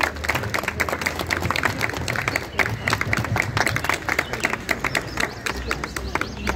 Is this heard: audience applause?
yes